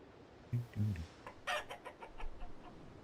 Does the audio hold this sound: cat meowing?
no